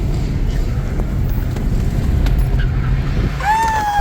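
An Acura TSX driving hard on an autocross track heard from inside the cabin: a constant engine drone mixed with wind and road roar, and a brief high tonal squeal near the end.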